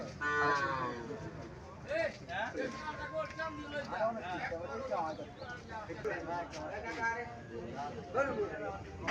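Sahiwal bull calves moo repeatedly over several seconds amid a busy outdoor cattle market crowd in Comilla, with people talking throughout and occasional hoof clops.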